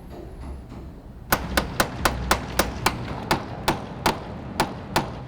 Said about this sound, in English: So probably 2 more days of this chiseling